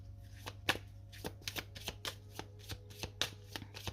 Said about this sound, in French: je vais mettre une carte dessus quand même.